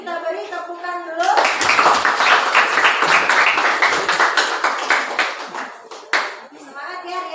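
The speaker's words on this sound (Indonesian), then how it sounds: "Kelompok 4 kita beri tepukan dulu." A classroom of students claps for group 4, a dense run of hand claps lasting several seconds, with a teacher's voice before and after and a few stray claps near the end.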